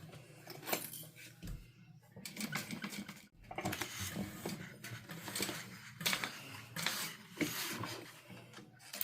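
Sewing machine stitching a quarter-inch seam with backstitching at each end, running in bursts of busy mechanical whirring and clatter, with brief pauses between runs, close and moderately quiet.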